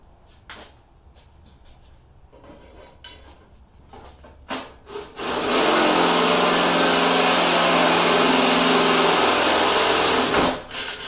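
Hand drilling into wood while assembling a front loader frame, a few scattered knocks and scrapes at first, then a loud continuous grinding drill run of several seconds that stops abruptly.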